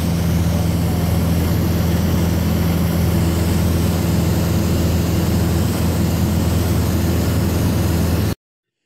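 Piper Arrow single-engine propeller aircraft in flight, its engine producing a loud, steady droning hum with a low tonal buzz that holds constant throughout, with no talking.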